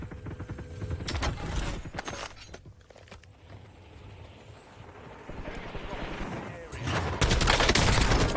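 Bursts of gunfire from the video game Warzone, sharp rapid volleys near the start and again toward the end, with quieter game mechanisms and footstep-like clatter between them.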